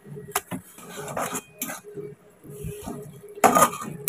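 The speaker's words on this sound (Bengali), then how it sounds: "দিয়ে এটা নাড়িয়ে নিই, একটু কষাই।" A paste of dried red chili powder and sugar being stirred and fried in a pan, heard as intermittent metal-on-pan scrapes and sharp clinks of a spoon at close range, with no talking.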